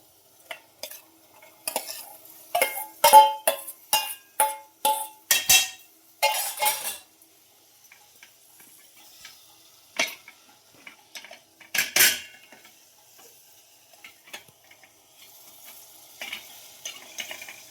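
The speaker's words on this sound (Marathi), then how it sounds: "आता ही उसळ मी त्यात टाकते" Washed sprouted beans (usal) go into a hot pan for misal. Quick rhythmic scraping and clinking of a spoon stirring against the pan comes first, then sparse taps and a faint sizzle, with no talking.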